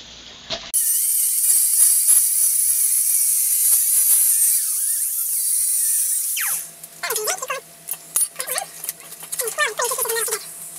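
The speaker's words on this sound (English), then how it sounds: "the cutoff wheel in an angle grinder is much easier to control when you're trying to make a cut. So I'm going to cut the steel in half" Angle grinder with a cutoff wheel slicing through steel sheet metal, a loud high-pitched whine that holds steady for several seconds and then winds down, followed by people talking nearby.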